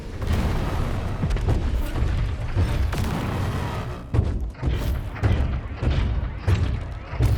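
Sound cannon weapons in the War Robots Frontiers video game fire as a run of heavy booming thuds, loud and repeated in uneven bursts, with faint game noise between the blasts.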